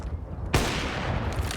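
A single sharp gunshot wall bang rings out in a Counter-Strike match on the Inferno map, one loud crack followed by a sustained rumbling tail over steady game noise.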